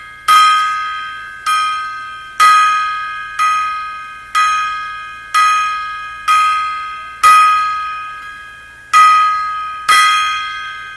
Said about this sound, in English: That's our 10 gong salute to you, Mr. Springer.